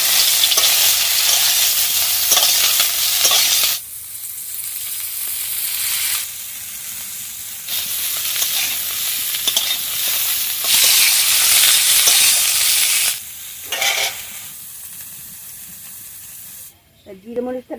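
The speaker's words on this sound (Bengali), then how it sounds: "কটা কালো জিরে দিয়ে দিচ্ছি, এগুলো একটু ভেজে নিচ্ছি।" Black cumin seeds fry in a pan of hot oil for a village-style potato and cauliflower curry, a loud hissing sizzle in several strong bursts separated by quieter stretches, with a brief voice right at the end.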